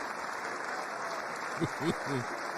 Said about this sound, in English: she's clapping now